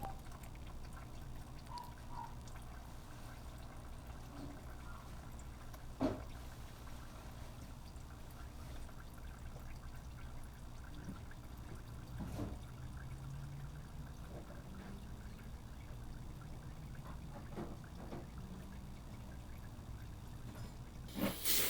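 Used motor oil drains from a car during an oil change, a steady low hiss and trickle running unbroken through the whole stretch, with a couple of faint knocks along the way.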